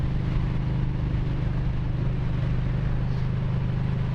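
Yamaha Bolt motorcycle cruising through winding canyon curves on Bouquet Canyon, a steady low engine drone with a deep rumble that holds continuously and loud for the whole stretch, with no voices over it.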